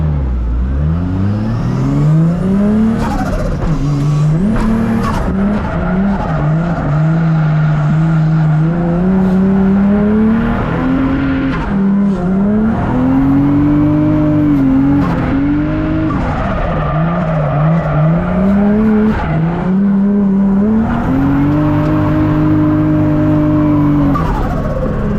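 A 1JZ VVTi-swapped Foxbody drift car drifting: loud, continuous engine revving that rises and falls through repeated throttle blips, with tire squeal and skidding layered throughout, heard close and unbroken.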